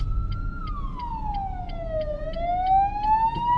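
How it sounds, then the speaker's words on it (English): A wailing ambulance siren sweeps down and back up in pitch as it passes nearby, over steady road rumble inside a Renault Clio 3. "Okay, the ambulance passed."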